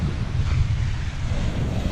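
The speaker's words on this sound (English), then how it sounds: "It's a little breezy right now this morning." Morning breeze on the North Carolina coast, a steady broadband rush with low gusty buffeting against the microphone, loud and continuous, with no talking.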